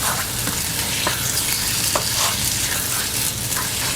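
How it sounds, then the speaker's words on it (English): Steady, loud sizzling of chicken frying in hot oil in a pan, with occasional sharper crackles and clinks of stirring throughout. "As soon as it hits the pan, it's frying."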